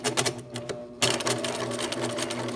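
A Bernina sewing machine stitches fabric for a face mask, giving a close, steady rapid clatter that stutters briefly at the start, pauses, then runs continuously.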